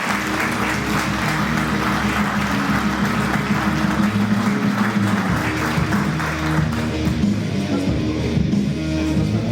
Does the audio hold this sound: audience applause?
yes